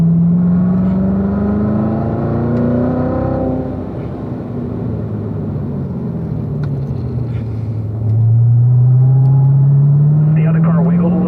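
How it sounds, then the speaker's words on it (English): A race car works through a track corner, its engine note sliding down as it slows and climbing again as it accelerates out, loud and close, with someone talking over part of it. "See how the car wiggled a little too much there?"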